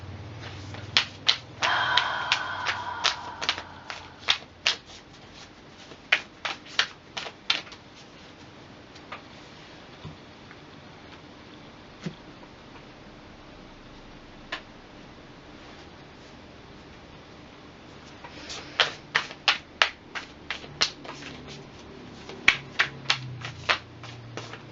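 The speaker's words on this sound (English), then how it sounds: "Let me just do a quick shuffle." Crisp clicking and riffling bursts of shuffled tarot cards, clustered at the start and near the end with quieter gaps between, close and without speech.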